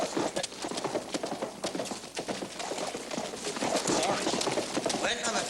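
Horse hooves clip-clopping on hard ground in a Western drama scene, a brisk repeated near clatter running under people talking.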